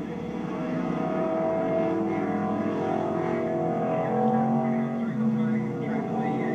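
A race car engine, at least ten years old, roars steadily through a national championship race in New Zealand, a continuous drone with shifting pitch as the car drives on.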